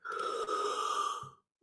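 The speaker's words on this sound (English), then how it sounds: "Just take a couple deep breaths." One long, deep, slow exhale, close and steady for over a second before trailing off, alone without talk.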